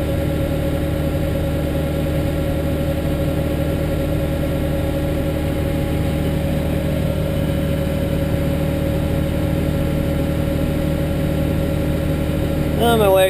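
A farm tractor with 3,000 hours idles close by during corn harvest with a low, even rumble that holds constant throughout, joined by a faint rising whine at the very end.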